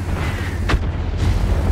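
A tank gun fires once in a World of Tanks-style game while playing the Leopard PTA or Type 4 Heavy, a single muffled boom over a constant low engine rumble.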